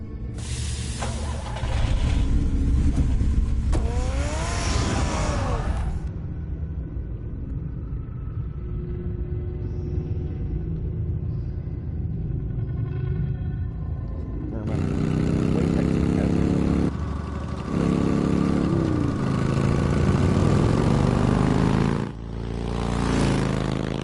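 A car engine rumbles in Batman: The Telltale Series. The low drone runs steadily throughout, with louder passages near the start and end layered over voices and music.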